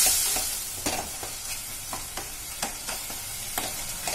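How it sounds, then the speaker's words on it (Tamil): Chilli powder is stirred into a sizzling beetroot and tomato mixture in a pan for beetroot rice, with a soft continuous sizzle and a steady series of light scraping taps from the spoon, close and without speech. "மிளகாத்தூள் சேர்த்து ஒரு ரெண்டு நிமிஷம் கலந்து விட்டுருங்க."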